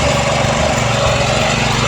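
A mini power tiller engine runs steadily after starting, working in a banana field with a loud, continuous buzzing drone close by, while voices talk over it.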